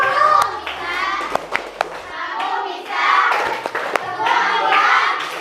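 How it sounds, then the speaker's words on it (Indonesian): Schoolchildren in a classroom clapping the tepuk semangat rhythm game, with scattered sharp claps and thumps mixed into lively children's chanting and voices, fairly loud and close. "Kita tepuk semangat dulu ya, tepuk semangat."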